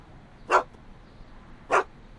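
Two sharp, moderately loud dog barks about a second apart, from the dog Einstein in the Back to the Future adventure video game, with no talking over them.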